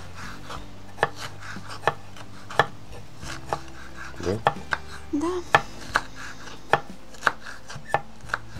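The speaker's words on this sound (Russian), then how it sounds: "нарезали мы с вами перчик болгарский" A knife chops bell pepper on a board outdoors in sharp, regularly spaced knocks, about one per second, over a low background hum. A brief exchange of speech and some rubbing and scraping come in midway.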